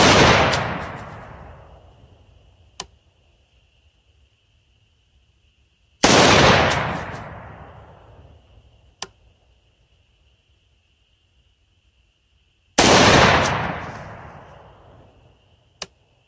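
Three loud rifle shots from a Savage MSR10 in 6.5 Creedmoor, spaced about six seconds apart outdoors, each a sharp blast with a long decaying echo and a faint distant return crack after it.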